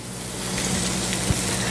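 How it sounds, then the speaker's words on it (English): Onions dropped into a hot pan hiss with a soft, steady sizzle, fairly quiet and close, with a faint clink partway through. "You want to hear that sizzle?"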